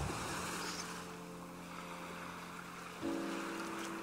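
Ocean waves wash onto a beach in a soft, continuous hiss, with a low droning hum that fades and then returns partway through.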